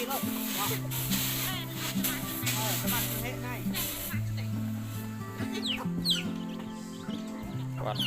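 Chickens clucking and calling as they are fed grain in a tribal village yard in the morning, repeated near clucks and rooster-like cries over a busy background with people talking.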